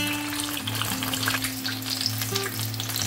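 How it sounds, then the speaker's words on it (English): A chicken pie fries in hot vegetable oil with a continuous crackling sizzle, heard up close and alone under a soft steady hum. "So we fry this till it's golden brown."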